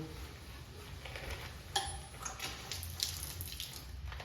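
Water runs faintly and steadily from the test cock of a backflow prevention assembly through an attached hose, a soft continuous splash with a few small clicks and drips, quiet and with no talk.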